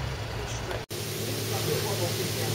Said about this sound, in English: That noise, I think, is the aircon.